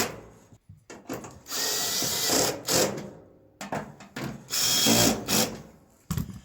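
A power drill drives a screw into thin sheet metal on a dryer during a motor swap, two bursts of whirring with stuttering pulses, each starting, rising and stopping, close and fairly loud.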